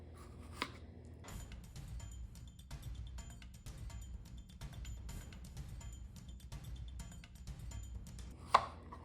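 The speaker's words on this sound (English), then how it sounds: "And now we flip it completely over and cut normal way." A knife chops food for a viral TikTok recipe in a quick run of crisp, close cuts on a board, with brief pauses and one sharper knock near the end.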